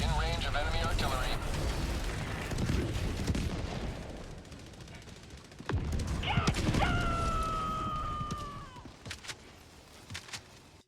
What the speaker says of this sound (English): you are in range of enemy artillery.